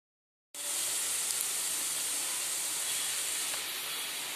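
Cashews frying in a few spoonfuls of hot oil in a pan, cooked for mint rice: a sudden loud sizzle bursts in and settles into a steady, close hiss that holds throughout with no talking.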